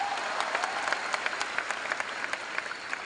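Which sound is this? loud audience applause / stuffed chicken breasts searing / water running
loud audience applause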